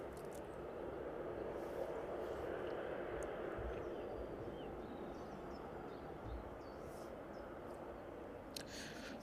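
Airliners waiting on the apron at East Midlands airport give off a steady, distant jet engine rumble and whine, fairly faint and continuous, with a few faint bird calls.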